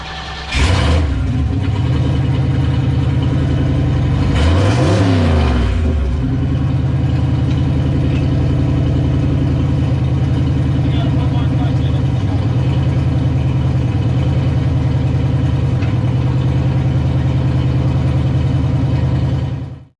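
A Ford Mustang Foxbody engine runs steadily at a loud, close idle, with two sharp revving bursts near the start as the wheels spin, then a constant drone.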